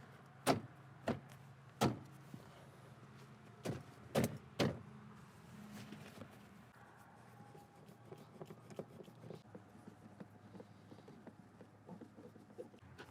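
Door card being pressed back onto an old high-mileage Subaru Outback door, plastic push pins snapping into place with several sharp knocks and clicks early on, then softer handling and rustling.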